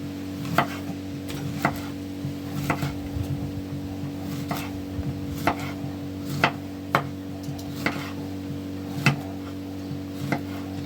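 A knife taps steadily against a cutting board as it slices zucchini into rings about half a centimetre thick, with regular crisp chops over a constant low hum.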